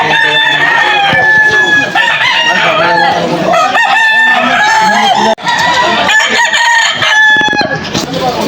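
Roosters crow repeatedly over a dense chorus of clucking chickens at a rainy pet market in Malolos, Bulacan, Philippines, loud and close, with many birds calling at once and no pause.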